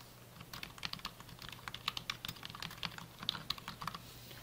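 Typing on a computer keyboard while entering a table and document text: quick, irregular bursts of soft key clicks close by, quiet and steady with no talking.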